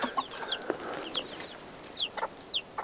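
Hens clucking softly around their many chicks, with repeated high rising peeps from the chicks scattered over short, low clucks, all close by and continuous with no talking.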